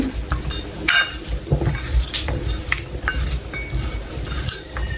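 Food being mixed by hand in a metal dish at home, with close, steady clinks and scrapes against the dish and soft squishing, and no talk over it.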